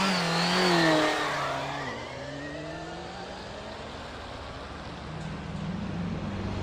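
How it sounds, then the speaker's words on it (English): A car engine in the video game Secret Files: Tunguska revs loudly at first, with pitch sweeping up and down, then settles into a steadier, quieter drone while driving, with no talk. "The black car is following you."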